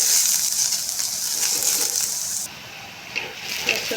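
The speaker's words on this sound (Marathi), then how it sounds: "त्याच्यामध्ये मी 1 चम्मच लसूण टाकला बारीक चिरलेला." Finely chopped garlic sizzles in hot oil in a pan with cumin, curry leaves and a small browned onion, giving a steady hiss that thins midway, with a few soft clinks.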